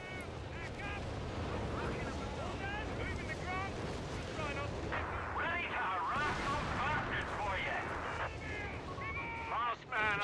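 Machine gun fire in a 4v4 Company of Heroes 3 battle, dense rattling gunfire and booms blending into constant combat noise, with chattering effects and voices running throughout.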